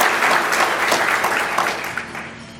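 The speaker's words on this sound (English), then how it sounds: "I think that's a clap" Audience applause at an award presentation, a sustained wash of clapping from a large crowd that gradually thins out toward the end.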